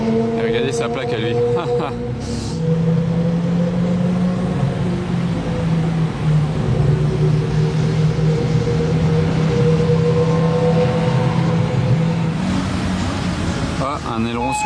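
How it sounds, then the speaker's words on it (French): A small tourist train rumbles past near a racing circuit with a steady, droning mechanical hum that swells and holds for several seconds, and voices may be heard over it. "Si vous vous demandez ce que c'était ce bruit, c'est le petit train."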